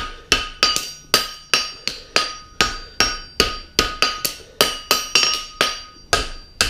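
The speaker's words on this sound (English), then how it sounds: "And as you level it on the anvil" Steel horseshoe, a heart bar shoe, struck with a hammer on an anvil in a farrier's forge: about sixteen sharp ringing blows in a steady, fairly quick rhythm, each clang decaying before the next, close and loud with no talk.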